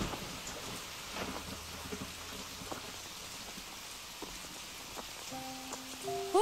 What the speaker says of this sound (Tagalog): Bakit ka naglalakad sa ulan?